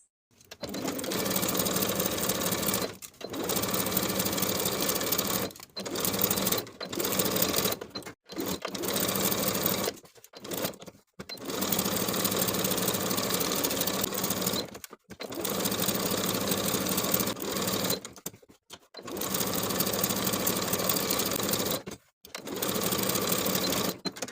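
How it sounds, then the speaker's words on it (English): A sewing machine stitches the armholes and neckline of a garment with a half-inch seam, running in steady bursts of a few seconds each, separated by short pauses, loud and close throughout. "Then we'll sew each of the armholes and the neckline from the back all the way around to the opposite back piece with a 1/2 inch seam allowance."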